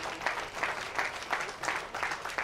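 Applause greets the 2019 Team USA women's team at the U.S. Amateur Championships stepladder finals and team announcement: a steady, dense crowd clapping that swells in gentle pulses and carries on through the whole stretch.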